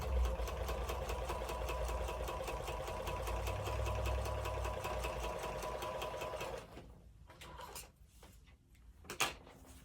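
A sewing machine that is running rough runs steadily with a rapid mechanical rhythm, then slows and stops, followed by a few clunks and handling noises.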